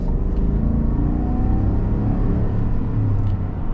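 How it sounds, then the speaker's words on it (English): A Chevrolet Silverado pickup with a 5.3 V8 accelerating, heard from inside as a steady, loud low engine rumble and drone that holds throughout without speech. "Let's get up and get our acceleration here with the Silverado."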